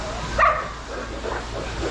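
Farm dog giving a single short bark or yip followed by a few soft whimpers, close by, over steady background noise on a farm with pigs and calves.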